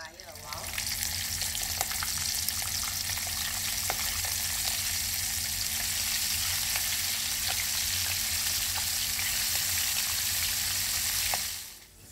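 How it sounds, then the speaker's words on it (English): Prawns frying in a wok give a steady, loud, hissing sizzle that stays constant and close for several seconds, dotted with small crackles and pops, then drops off sharply at the end. "The prawn cook very fast, so we have to basically control the fire a while."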